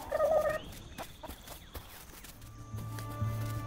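A chicken in the farming video game Dinkum lets out a short, bright cluck at the start, followed by quieter, scattered game sounds and a low tone near the end.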